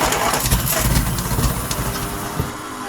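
A 1953 Riley car engine catches after cranking and settles into a rough, uneven running note, close and loud, with sputtering pulses and mechanical rattles.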